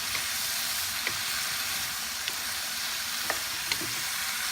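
Young corn and mushrooms sizzle steadily in a hot frying pan, with a few light clicks of stirring scattered through the close, even frying hiss; no one speaks.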